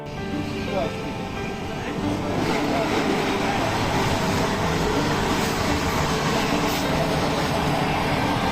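Commuter train rolling from Krishnanagar to Kolkata, a steady broadband rumble of wheels and carriage noise that swells slightly after the first couple of seconds and holds at a constant, close level, with voices murmuring underneath.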